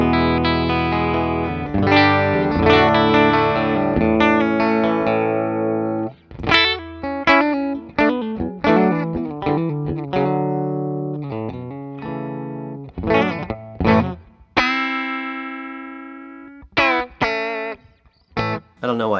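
An overdriven electric guitar, a Boss DS-1 distortion into an MXR Phase 90, plays sustained chords and choppy riffs, its tone sweeping with a swirling phaser effect, loud and close, with brief gaps between phrases.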